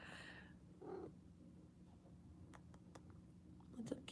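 A cat purrs close by in a low, steady rumbling drone, with faint ticks and soft taps in the background.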